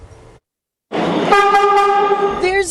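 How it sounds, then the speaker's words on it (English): A new MTA subway train on the New York City C line, starting after a short silence with loud rumbling motion that turns into a sustained, rising tonal whine, close and continuous, with no speech. "The 𝗙𝗙𝗟𝗢𝗪 is now rolling through New York City's subway system."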